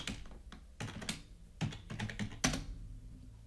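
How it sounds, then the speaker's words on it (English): A password is typed on a computer keyboard, with close, crisp key taps coming in quick irregular bursts of several clicks separated by short pauses, quiet and alone with no talking. "let's type the password"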